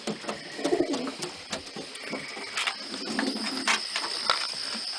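Pigeons coo in soft, repeated low calls from several birds nearby, mixed with scattered chirps, wing flutters and rustling in a loft setting, with no talking.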